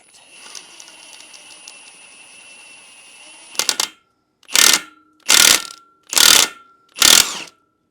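An impact wrench drives a bolt on a Polaris 250 quad in four loud, even bursts of hammering close up, after a few seconds of low background noise and some ratcheting clicks.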